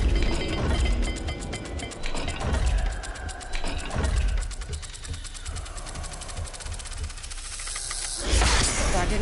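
A puzzle dial mechanism being turned in Hogwarts Legacy, giving a fast, continuous ratcheting click with a hissy mechanical texture, loud and close, and ending in a sharp burst.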